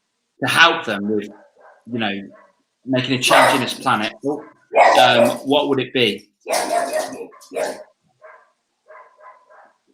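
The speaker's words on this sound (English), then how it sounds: "My pug is barking like crazy." A pet pug barks in the background while a person talks over it, with short, quieter yaps coming through near the end.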